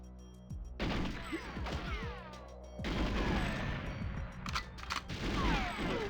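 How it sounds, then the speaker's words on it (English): Rapid gunfire and explosive blasts from the GoldenEye 007 video game as a gun camera is shot and blown up, dense loud bursts in two clusters with crashes and ringing tails between shots. "See how fast that gun camera blew up?"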